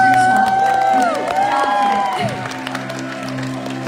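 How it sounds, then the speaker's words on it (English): Concert audience at a live show cheering and applauding, with loud whoops and shouts over clapping, along with sustained musical tones from the stage. "So give a round of applause for yourself."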